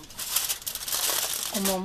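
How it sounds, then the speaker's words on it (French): Prepared aluminium foil crinkles and crumples loudly up close in a kitchen while tilapia is being cooked, and a voice starts speaking at the end. "papier alu déjà préparé et je veux le poser sur le cook rice"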